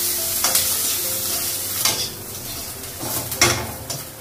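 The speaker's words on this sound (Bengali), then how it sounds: "পেঁয়াজটা রসুনটা ভাজা হয়ে গেছে," Onion and garlic fry in a pan with a constant close sizzle, broken by several sharp scrapes and clatters of a spatula or spoon stirring against the metal.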